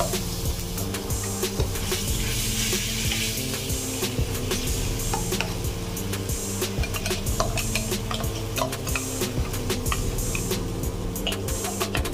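Crushed green chilies and garlic are added to hot oil with crackled mustard seeds, cumin and asafoetida. They fry with a loud, continuous sizzle and sputter, dotted with quick ticking pops and a spoon scraping, and no one speaks.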